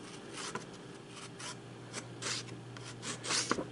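A Kershaw CQC-8K knife slicing heavy duty stock paper, giving a steady close scratchy rasp with a few sharper swipes over a constant low hum.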